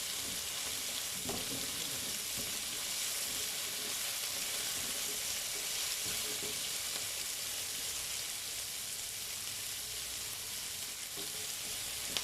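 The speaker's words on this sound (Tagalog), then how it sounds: "Ginisa muna natin yung ricado" Rekado spice aromatics sautéing in a pan, a steady, close sizzle of frying with occasional stirring scrapes, continuous throughout with no talking.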